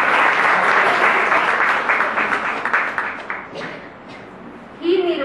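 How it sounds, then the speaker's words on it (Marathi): An audience at an inaugural event applauds a woman who has stood up, the dense clapping fading out over several seconds before a voice begins speaking. "त्याच्यासाठी टाळ्या वाजवूया आपण"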